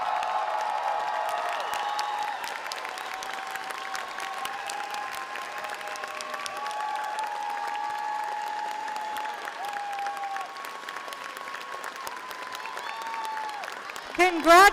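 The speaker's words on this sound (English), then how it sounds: "would you please stand to give an applause to the graduating class of" At a 2025 high school commencement ceremony, the audience gives the graduating class a long, standing ovation with scattered cheers and whoops, accompanied by sustained musical tones, ending in a louder burst.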